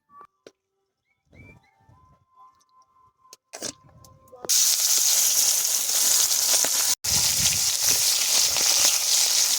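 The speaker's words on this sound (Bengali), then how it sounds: "কড়াইতে দিয়ে দেবো সরিষার তেল।" Mustard oil poured into a hot wok bursts into a loud, steady sizzle midway, following a few quiet clinks and handling sounds of pan and utensils beforehand; no one speaks.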